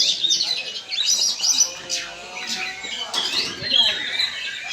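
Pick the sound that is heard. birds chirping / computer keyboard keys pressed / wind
birds chirping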